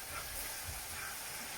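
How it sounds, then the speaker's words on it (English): Bacon, onion and garlic sizzle steadily in a pan, a continuous close hiss with no pauses. "Now the bacon's cooking out, and just the onion and bacon, everything's there, the garlic, so I'm just going to stir it all together"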